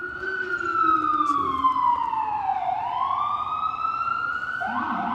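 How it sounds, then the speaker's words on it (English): An ambulance siren wails past in a city street behind a fire truck, its pitch sweeping and then dropping as it goes by, loud and steady throughout with road traffic underneath. "An ambulance."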